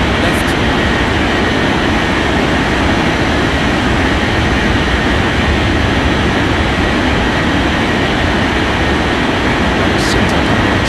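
An airliner at takeoff in the air traffic control game Unmatched Air Traffic Control, with a loud, continuous rumbling jet engine roar that holds steady throughout and a faint click near the end.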